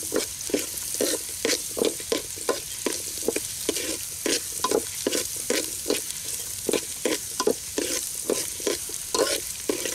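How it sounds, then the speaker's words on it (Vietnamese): Softshell turtle meat stir-fries in a hot pan with aromatics, a steady loud sizzle broken by regular rhythmic scrapes and tosses of a spatula, close up with no talking. "Sau đó mình sẽ cho ba ba vô mình xào."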